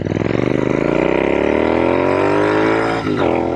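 A custom Royal Enfield INT/GT hybrid motorcycle engine revs up close and loud, its pitch climbing steadily over a few seconds with a brief dip near the end, and no talking over it.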